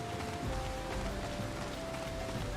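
Heavy rain falls in the Final Fantasy XIV video game, a dense, even patter pouring steadily at moderate volume with a faint sustained tone underneath and no speech.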